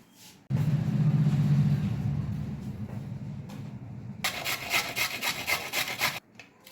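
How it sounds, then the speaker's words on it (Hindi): Soaked lentils are ground in an electric mixer grinder, a loud close whirring rumble that runs for several seconds, then shifts to a harsher, brighter grinding before stopping abruptly. "धोने के बाद ड्रेन करने के बाद फिर अब मैं इसको सबसे पहले पीसूंगी।"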